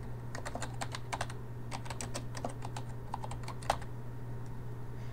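Rapid keystrokes on a computer keyboard, typing comments into a SharePoint 2013 check-in form, come in quick irregular clusters over a steady low hum, close and clear, with one sharper tap near the end.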